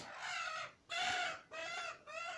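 A hen being chased gives four loud, harsh squawks in quick succession, each lasting about half a second, close by with nothing else clearly audible.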